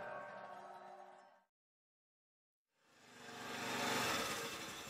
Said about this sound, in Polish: Silnik motocykla zgasł niedaleko stąd